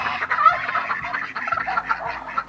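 A small group of backyard chickens clucking close by, a dense, continuous murmur of overlapping clucks and soft calls with no talk over it.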